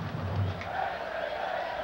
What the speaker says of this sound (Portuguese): A torcida canta, comparece em bom número aqui no Frasqueirão